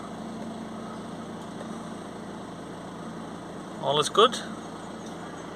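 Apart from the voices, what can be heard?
van engine started and idling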